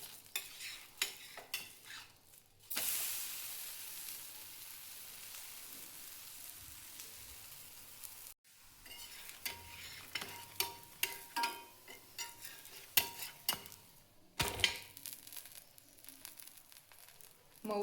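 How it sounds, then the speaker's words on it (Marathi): Onion and coriander dhapate, a Maharashtrian flatbread, roast on a hot pan, each side in turn, with a soft steady sizzle and occasional scraping and crinkling from turning the bread. No voices are heard. "दोन्ही साईड पण व्यवस्थित भाजून घ्यायच्या."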